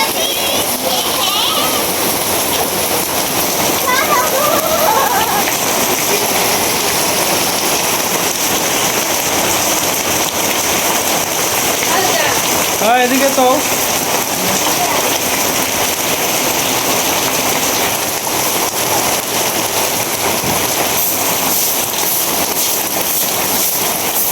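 Steady heavy rain falls throughout during flooding, a dense hiss of drops on surfaces with a faint voice briefly audible in the background.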